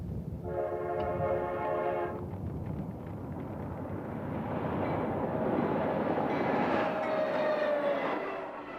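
A westbound Union Pacific train passes near Crucero in the desert, giving a horn blast of under two seconds before its steady rolling rumble builds and fills the rest of the time.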